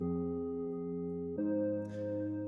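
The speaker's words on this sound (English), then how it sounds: "we're going to start off with the main sound being this pad." A sustained synthesizer pad holds a steady chord, shifting to a new chord partway through, with a soft airy shimmer near the end. No talking.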